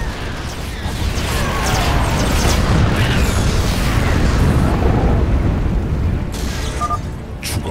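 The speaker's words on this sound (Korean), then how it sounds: "미사일 발사!" A StarCraft II missile strike lands as a loud, sustained, rumbling blast with crackling debris, rolling on for several seconds before tapering off.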